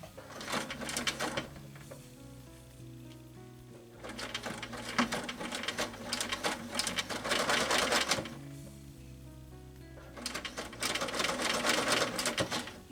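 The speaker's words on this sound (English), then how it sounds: "can we sew this?" A sewing machine set to stitch length 5 runs through a leather scrap in three bursts of fast, steady mechanical whirring, separated by short pauses, loud and close with no talking.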